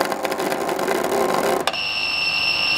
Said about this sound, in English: as soon as it falls downwards, our buzzer get activated